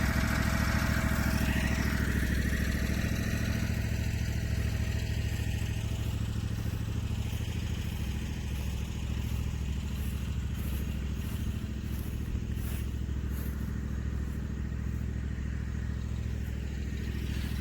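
A Husqvarna zero-turn lawn mower cuts grass on a soft lawn and leaves ruts. Its engine drones loud and steady throughout, close by, with no talking.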